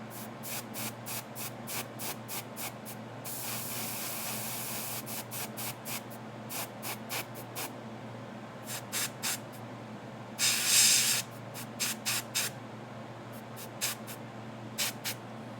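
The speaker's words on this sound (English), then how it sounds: "We're doing a little bit of airbrushing to start off today" Airbrush sprays in short repeated hissing bursts with a couple of longer sustained blasts, steady and close over a low background hum.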